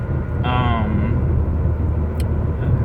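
A 2006 Toyota Corolla XRS making a pull with the exhaust cutout closed, a loud steady engine drone under a rising whine, with a brief higher tone near the start.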